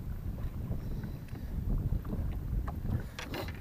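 Wind buffets the microphone while fishing from a small boat on open water, a low, steady rumble with gusty swells and faint knocks of the hull.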